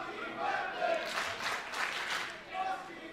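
Wrestling crowd in Barrie cheering during a match, a steady roar of many voices rising and falling in waves, heard from within the arena with commentary talking over it.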